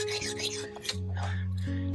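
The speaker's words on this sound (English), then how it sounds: "Now Kuyalino is sharpening the bolo." A bolo knife being sharpened with a file outdoors, a few scraping rasps heard close, with a steady hum underneath.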